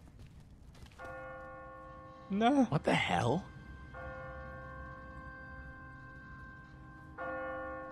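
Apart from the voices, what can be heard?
church bell ringing in The Walking Dead video game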